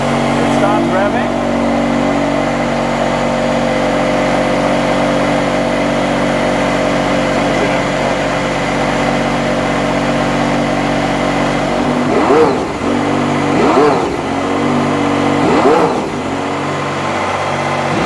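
Mercedes-AMG ONE hybrid hypercar engine in track mode, idling loudly at first, then revving in three sharp rising bursts near the end, close and dominant.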